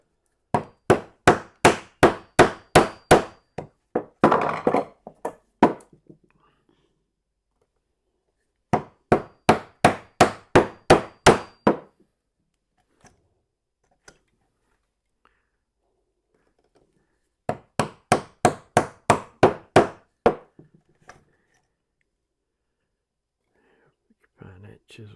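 A chisel being hammered into wood while a library table drawer is repaired, heard as three separate bursts of about eight sharp, evenly spaced blows each, close and clear, with quiet pauses between the bursts.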